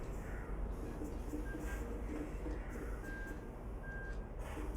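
A truck reverses at night on a road trip between Samsun, Ordu and Trabzon, its reversing beeps sounding in steady, evenly spaced pulses over a constant engine rumble.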